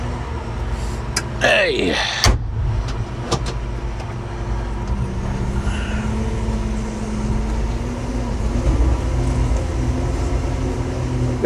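A Kobelco CKE2500G crawler crane drives with a low, steady engine rumble up close, broken early by a brief sharp whine and clatter, while a voice speaks briefly over it.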